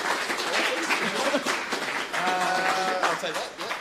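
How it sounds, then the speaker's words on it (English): An audience at a tech talk breaks into applause, a dense patter of clapping that swells and fades over a few seconds while a voice speaks over it. "Let's have a round of applause."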